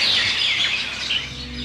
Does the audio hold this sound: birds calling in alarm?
yes